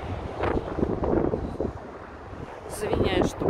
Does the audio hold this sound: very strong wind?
yes